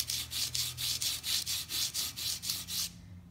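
Charcoal pencil lead being sharpened to a tapered edge, giving about eleven steady rhythmic rubbing strokes that stop abruptly near the end, close and fairly loud with no talk.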